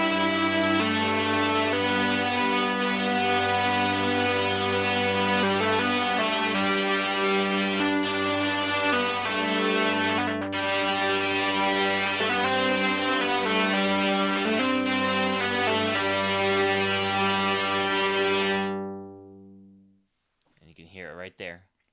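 A synthesized hurdy-gurdy built in Max8 is bowed, giving a sustained drone with rich, buzzing harmonics and small melodic shifts, played loud and close before fading out near the end, with a brief stray sound after.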